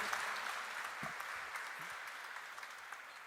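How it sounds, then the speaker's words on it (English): An audience at a live lecture ceremony gives a sustained round of applause, steady and fairly faint as though heard from a distance, with a few low thumps beneath it. "I think he deserves a huge round of applause for this great achievement"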